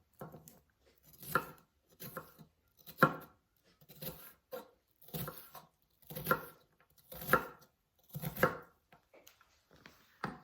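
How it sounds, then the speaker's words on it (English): A kitchen knife chops an onion on a board, about eight separate soft strokes spaced roughly a second apart, close but quiet, with nothing else heard between them. "Like we've talked about before, there are many ways to cut onions."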